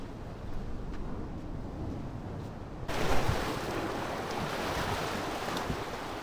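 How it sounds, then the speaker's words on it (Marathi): Sea waves wash onto a small, secluded Konkan beach, a steady roar of surf swelling into a louder breaking surge midway, with wind buffeting the microphone throughout and no voices. "लाट पाणी उसरू द्या, लाट येते जाते."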